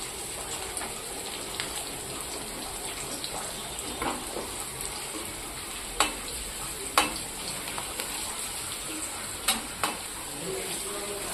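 Tempering for dahi vada sizzles quietly in a pan, a steady soft frying hiss with a few sharp clicks and pops of spoon or spices scattered through.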